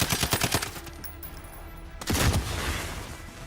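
Rapid bursts of gunfire ring out in Call of Duty Warzone, a quick string of loud close shots up front, then a second heavy volley after a brief lull, with no talking.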